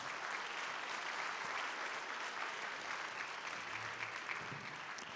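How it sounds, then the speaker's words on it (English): A school auditorium audience at an all-district band concert claps steadily in warm, sustained applause that holds at an even level throughout. "Give him a nice round of applause."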